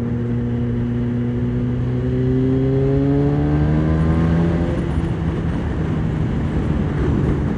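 A custom Honda CBR900RR Fireblade with a loud aftermarket exhaust revs up, its engine note rising steadily through the gears and then settling into a rough, gargling drone, close and loud throughout with no talking.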